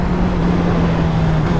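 A QJ Motor SRK 800 RR sport motorcycle with a 95-horsepower engine runs steadily, giving a constant, close, even drone with a low hum and no revving or speech.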